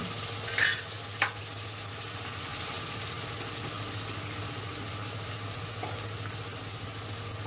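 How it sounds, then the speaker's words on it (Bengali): A masala of tomato and ginger paste sautés in a pan, a quiet steady sizzle with a couple of sharp spoon scrapes near the start. "ভালো করে মশলাটাকে কষিয়ে নেব"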